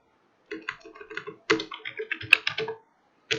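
Quick bursts of keystrokes on a computer keyboard, close and crisp, come in two short runs with a pause between them.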